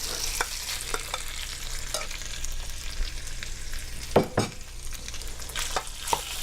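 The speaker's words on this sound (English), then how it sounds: "We're going to heat that up. And we're going to add our beef." Beef sears in a pan of hot oil for a Mongolian beef steak stir fry, sizzling steadily up close, with a few sharper crackles and scrapes partway through.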